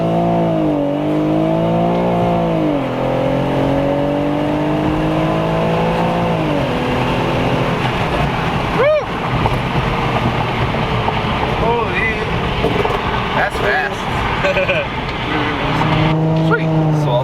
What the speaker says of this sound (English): You can just hear it popping and clacking in the back the whole time.